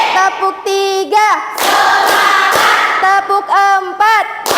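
A school class claps out a rhythmic clapping pattern during an Indonesian classroom lesson. A run of loud, close claps sits between stretches where a voice chants or calls out.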